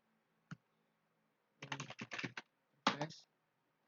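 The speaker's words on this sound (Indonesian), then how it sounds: "Kita ketikkan perintahnya yaitu show IP OSPF" Typing a command into Packet Tracer on a computer keyboard: one isolated keystroke, then a quick flurry of clicks, a short pause and a final burst of keys, close and distinct in a quiet room.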